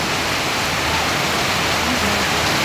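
Heavy rain pouring down in a steady, dense, loud hiss that stays constant throughout, with no talk over it.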